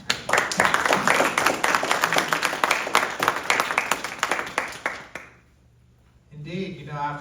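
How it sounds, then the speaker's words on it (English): Audience applause at an Oakland City Council District 2 candidate forum, a dense sustained burst of clapping for about five seconds that stops abruptly, followed by a short pause and then a voice speaking. "Everyone, please give a round of applause."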